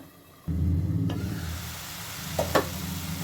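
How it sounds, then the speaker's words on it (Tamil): Onions with chilli sizzle and fry in hot oil in a pan, a loud steady hiss starting abruptly, with a couple of brief stirring scrapes near the end. "அந்த ஸ்டேஜ் வர வரைக்கும் நல்லா வதக்கி வச்சுக்கோங்க."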